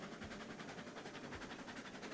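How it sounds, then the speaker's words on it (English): A steam train rolls along a rail line in the video game Railroads Online, a faint steady rumble with soft rhythmic chuffing pulses throughout. "Our first train on the new Suffer and Southern."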